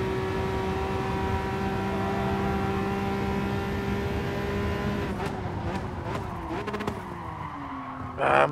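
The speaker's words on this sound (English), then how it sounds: "I'm locking the brakes up" Race car in Gran Turismo Sport on the Sardegna Road Track A circuit, a steady engine drone followed by tire squeal and a brief rising rev as the brakes lock up, moderately loud.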